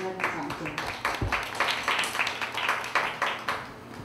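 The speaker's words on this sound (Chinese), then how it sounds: "谢谢我们今天的掌声。" An audience at a self-introduction gathering claps in a brief round of applause, a rhythmic patter of many hands at moderate volume with some voices in the background.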